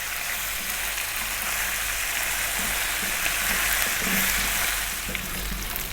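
Meat sizzles steadily in a pan over medium heat for a Kerala-style dish, a constant dense frying hiss with faint occasional stirring scrapes, close and alone.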